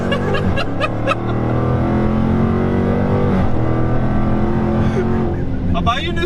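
A 2016 Dodge Challenger Hellcat launching hard from a standstill, its supercharged engine roaring loud and close in a sustained rising drone, with people talking and laughing over it.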